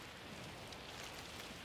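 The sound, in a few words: rain in Lonely Mountains: Downhill video game track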